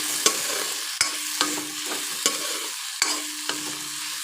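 Tomatoes frying in a pan with softened taro, a steady sizzle under about six sharp spatula knocks against the pan while the mixture is stirred at an uneven, unhurried pace.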